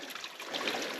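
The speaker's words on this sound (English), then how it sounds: "listening to the trickling of the stream" A small stream trickles steadily outdoors in a quiet, peaceful spot, a continuous soft wash of running water heard up close for about a second, with no voices.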